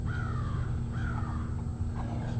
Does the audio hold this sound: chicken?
no